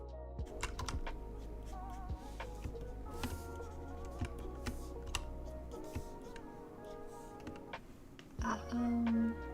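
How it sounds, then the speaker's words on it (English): Computer keyboard typing runs as steady clicking near the mic during a casual animation stream, with a low background hum and a brief louder sound near the end. "Just keyboard ASMR."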